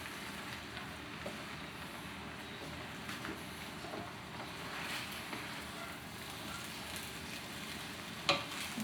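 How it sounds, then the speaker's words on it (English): Shrimp fried rice is stirred in a big pot, with a continuous close sizzle and frying hiss, soft scraping stir sounds throughout and a brief clank near the end. "Have to stir it up in there nice and good."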